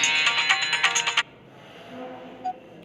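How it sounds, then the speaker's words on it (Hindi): A mobile phone ringtone plays a bright, repeating electronic melody for about a second, then cuts off abruptly, leaving a quiet room. "थोड़ा सा फोन आ रहा है"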